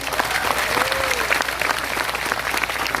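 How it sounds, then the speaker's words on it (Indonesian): Applause from the audience at a large Islamic religious gathering with the Indonesian NU community in Taiwan, dense steady clapping throughout, mixed with crowd noise and occasional voices. "Tepuk tangan untuk NU Taiwan"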